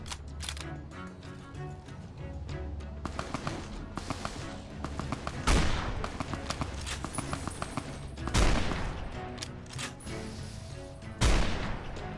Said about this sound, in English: I think he's got a shoulder-mounted machine gun on him.